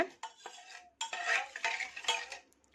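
Hibiscus leaves stirred into water for homemade shampoo, giving close, irregular scraping and sloshing strokes of a utensil against the vessel, with brief pauses between them.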